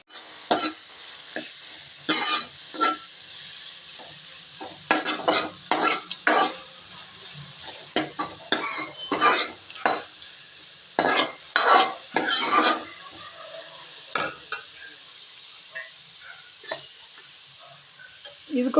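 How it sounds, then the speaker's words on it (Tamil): Sliced onions sizzling in a pan for mint pulao, stirred with a spoon in repeated bursts of scraping and clatter over a steady close hiss, with no voices. "வெங்காயம் நல்லா வதங்கட்டுங்க."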